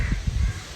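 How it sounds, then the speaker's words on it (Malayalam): A crow cawing nearby in a domestic outdoor setting, a few short rough calls in quick succession against a soft background hiss. "അപ്പൊ കാക്ക കരയുന്നുണ്ട് കാര്യമാക്കണ്ട"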